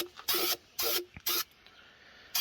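Aerosol spray can hissing onto an LBZ Duramax diesel engine in a frame-damaged truck, four loud bursts of about a quarter to half second each, separated by short quiet gaps, with a fifth burst starting at the end.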